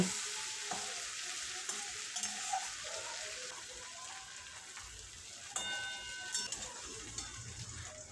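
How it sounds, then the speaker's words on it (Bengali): Shrimp sizzle softly in hot oil in a pan, turned to fry lightly on each side, with a steady quiet crackle and occasional sharper pops. "এপিট ওপিট করে হালকা করে মাছগুলো ভেজে নেব"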